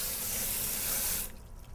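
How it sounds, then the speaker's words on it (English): Cold tap water gushing into a sink over drained pasta, a steady hissing spray that cuts off abruptly near the end, leaving faint residual dripping. "let's hit this with a little cold water to cool it down and keep it from sticking"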